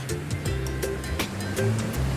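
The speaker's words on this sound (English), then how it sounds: "The sound of the waves crashing is so powerful that it can relax you and make you fall asleep." Ocean waves wash and crash steadily throughout, a fairly loud surf wash with some tonal hum and low rumble mixed in, no voices present.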